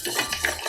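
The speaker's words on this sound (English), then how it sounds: "Nice vigorous stir." A Manhattan cocktail stirred vigorously with a chopstick; quick, close scraping and light clinks against the glass in a short burst.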